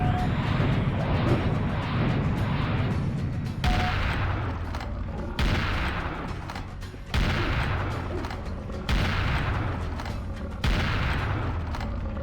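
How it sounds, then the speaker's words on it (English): Rocket launcher blasts in Serious Sam Revolution, six heavy booms spaced a second or two apart, each a sharp loud onset followed by a rumbling decay, with no talking. "Let's toss an extra rocket his way."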